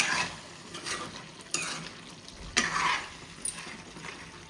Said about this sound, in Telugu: సో ఇంకోసారి అయితే తీసి కలుపుకుంటున్నాను.